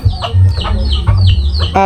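Hens cluck close by in repeated short calls, several in quick succession, with low rumbling background and a brief crowing note near the end, as chickens are being separated in a farm pen.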